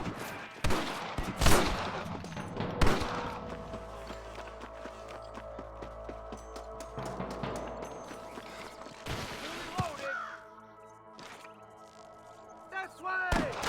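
Scattered gunshots and sharp impacts ring out in a Red Dead Redemption shootout against snipers, with shouting voices, hoofbeats and rustling between the bursts of fire.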